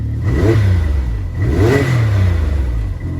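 Can-Am X3 side-by-side fitted with a Valvetronic exhaust, revved twice in quick succession with a deep, throaty tone, loud and close with no talking.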